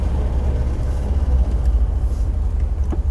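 A 1977 MGB with a four-speed gearbox and no overdrive rumbles steadily on a test drive, its low engine drone and road noise continuous and fairly close, with no talking.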